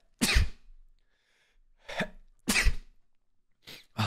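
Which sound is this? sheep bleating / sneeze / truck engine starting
sneeze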